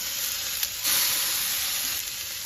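Okra and egg stir-fry in a pan with sauce and seasonings, giving a steady, loud sizzle near the microphone. The hiss swells briefly after a small clink of the utensil.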